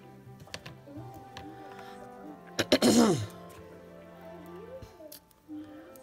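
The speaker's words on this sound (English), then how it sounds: "having to clear my throat constantly" A single harsh throat clearing bursts out in the middle, brief and close, with a quiet voice murmuring before and after.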